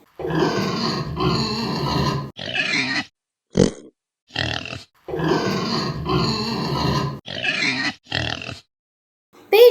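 Pigs grunt and oink in several long, loud bursts of rough, guttural snorting separated by short pauses, close and without any talk.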